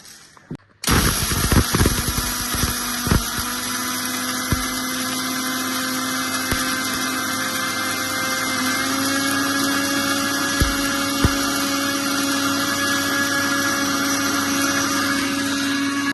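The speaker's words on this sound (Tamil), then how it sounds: "இது அப்படியே அரைச்சி எடுத்துட்டு வரேன்" Home-grown coffee beans are ground into powder in a grinder that starts with a clatter and then runs as a loud, steady motor whine, with occasional knocks from the beans, for a long stretch.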